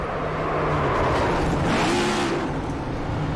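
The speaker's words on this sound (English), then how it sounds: "He's going to make that cut to the inside and slam right into the tail end." Stock race cars roaring down a track straight during a series race, a loud engine whir with a car sweeping past as the pitch swoops and falls, a dense continuous motor wash without a clear impact bang.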